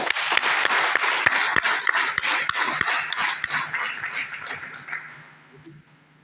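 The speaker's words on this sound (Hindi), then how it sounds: "एक जोरदार ताली।" A seminar audience breaks into loud, dense applause with sharp individual claps scattered through it, holding steady for several seconds and then thinning out and fading toward the end.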